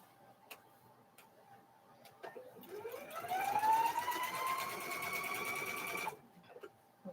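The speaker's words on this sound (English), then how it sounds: "We'll be done stitching squares." Sewing machine stitching cow quilt squares, starting with a few ticks, then a close, rapid mechanical whir whose pitch climbs as it speeds up, holding for about three seconds before stopping abruptly.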